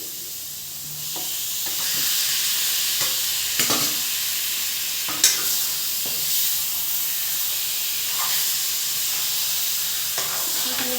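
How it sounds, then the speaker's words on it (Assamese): Chicken meat with spice paste and tomatoes fries and hisses steadily in a pan for chicken pulao, with occasional scrapes and knocks from stirring. The sizzle is loud, close and continuous. "দিয়াৰ পিছত অকণমান টাইম মাংসখিনি ভাজিব লাগিব ভালদৰে"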